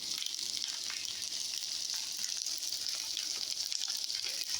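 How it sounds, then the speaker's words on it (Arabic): Onions fry on melting sheep tail fat, a steady, close, bright sizzle with fine crackling that holds evenly throughout, no voices present. "هيدا البصل حطيناه على وجه اللية مثل ما انتم شايفين، لية الغنم"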